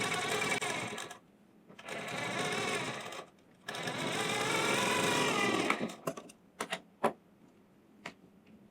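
A sewing machine stitches a blouse in two long, steady rattling bursts, close and loud, separated by a short pause, followed by a few brief clicks and taps as the work is adjusted.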